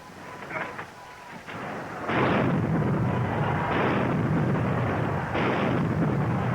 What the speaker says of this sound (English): stop that gunfire! Stop it!